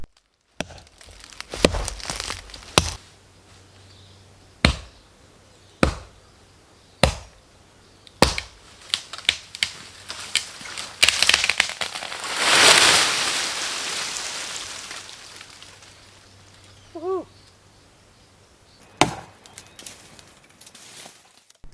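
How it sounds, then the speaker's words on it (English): An axe chopping blackwood and black wattle acacia trees outdoors, with sharp single blows spaced a second or two apart, some quick flurries of strikes, and a rushing crash of the tree falling midway. "I had decided to cut down the trees with nothing but an axe."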